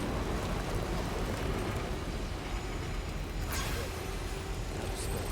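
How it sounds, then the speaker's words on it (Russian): A rainstorm with thunder in the video game Death Stranding, a steady loud wash of heavy rain with a brief crackle of thunder near the end, and a voice speaking over it. "Опять буря, блеск!"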